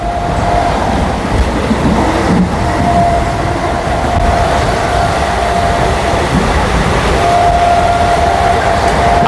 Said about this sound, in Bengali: আমাদের ট্রেন ক্রস করছে সোদপুর স্টেশন।